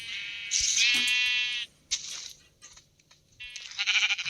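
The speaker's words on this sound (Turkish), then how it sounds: "Şimdi koyunlarımız burada." Sheep bleat in Minecraft, one long wavering bleat followed by shorter calls, fairly close and clear, with soft crunching steps between.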